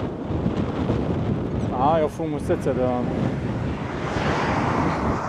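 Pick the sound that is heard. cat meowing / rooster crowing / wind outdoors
wind outdoors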